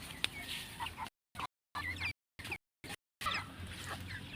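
Pet chickens cluck in short bursts close by, broken by several gaps of silence, with faint background noise and no talking.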